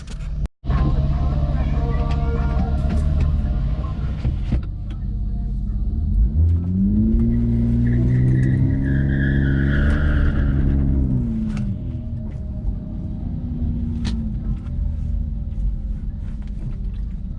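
A drag race car engine revs and accelerates hard with a rising, sweeping pitch, loud and close, then settles into a steady rumble.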